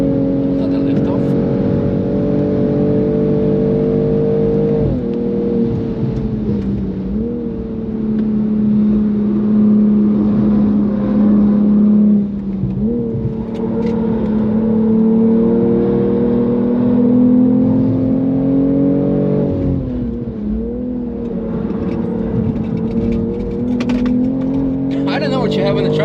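A BMW G42 M240 xDrive lapping the Nürburgring, heard from inside the cabin as a loud, continuous engine drone whose pitch climbs and drops with throttle lifts and shifts, with occasional voices under it.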